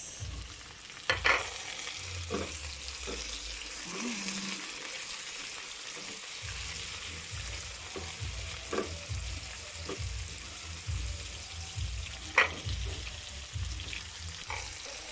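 Tomatoes frying in a pan with browned garlic and onion, a steady close sizzle with occasional stirring clinks and scrapes, no talking.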